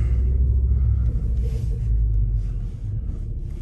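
A used Renault car drives along from inside the cabin, a steady low rumble of engine and road noise that stays loud and even throughout, with no voices.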